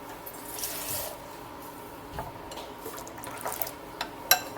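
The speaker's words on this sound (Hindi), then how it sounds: "पानी और शामिल करेंगे इसमें।" Water is poured into a thin flour batter being mixed for chicken nihari, a soft faint trickle and splash with light clinks of a bowl or utensil near the end.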